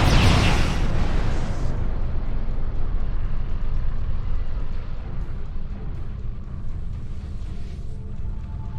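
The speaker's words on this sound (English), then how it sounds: "What was that? Like a disruption beam." A disruption beam blast fired from a ship in the Star Trek Online game, a loud bright burst at the start that settles into a long rumbling roar and slowly fades, with no voices.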